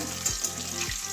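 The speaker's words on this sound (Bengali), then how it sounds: "এবারে ডিমটা ভেজে নেব।" Egg frying in oil in a pan gives a steady, close sizzle throughout, with a couple of soft stirring or scraping strokes.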